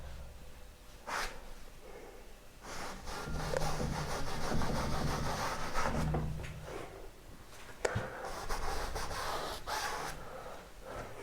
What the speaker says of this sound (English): I check what colour's in the brush by rubbing it against my hand.